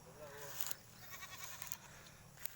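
A goat bleats among banana plants on a farm, a few short wavering calls at moderate distance while a person talks over it outdoors.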